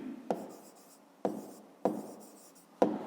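Handwriting during a maths lesson, with four sharp taps of pen on paper, each followed by a brief scratchy stroke, close and quiet.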